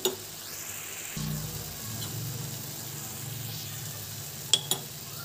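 Ghee roasting a carrot halwa mixture makes a soft, low sizzle and gentle scraping, with a faint rumble underneath and two brief sharp clicks near the end.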